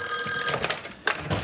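A household telephone bell rings in a sustained metallic trill, then breaks off with a brief thunk as the handset is lifted, and the room falls quiet.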